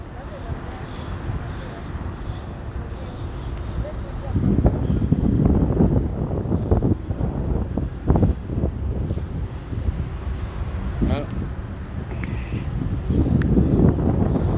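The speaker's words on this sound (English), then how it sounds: "Wind's coming up" Gusty wind buffets the microphone in rumbling surges near a riverbed fire in Oildale, rising and falling over about fifteen seconds, with a person speaking at times.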